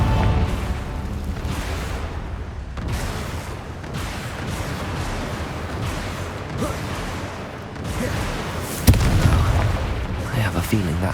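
The Confringo blasting spell in Hogwarts Legacy sets off booming explosions over a dense, rumbling game soundscape, with one sharp, louder blast near the end.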